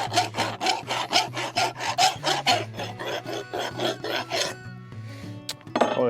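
Close rasping of a file drawn along a hand-forged sgian dubh blade, evening out hammer marks in fast regular strokes for several seconds before the scraping stops and a brief clink and shuffle follow.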